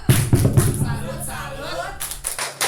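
A burst of crowd clapping at a teacher training dissemination event, dense and steady, with voices speaking over and after it in a room.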